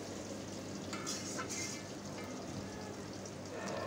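Potato pieces frying in a pan with salt and turmeric, giving a soft, continuous sizzle with a few louder crackles and stirring sounds, fairly quiet and steady throughout.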